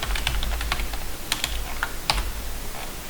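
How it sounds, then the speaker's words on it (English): Rapid keyboard typing, a quick run of light clicking keystrokes close by, with a few louder taps standing out and no talking. "it's way too early to be typing this fast"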